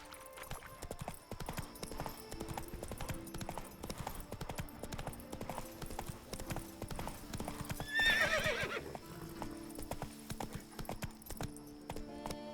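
Horse hooves clip-clopping in a steady trot inside The Witcher 3 video game, a continuous rhythmic patter with a short whinny midway, faint speech underneath.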